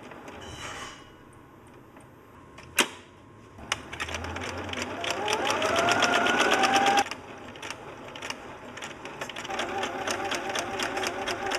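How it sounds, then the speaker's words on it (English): A sewing machine driven by a servo motor runs in short bursts: a brief start, a sharp click, then several seconds of rapid mechanical stitching with a rising motor whine, stopping abruptly and resuming as quieter, uneven stitching. "It's a sewing machine."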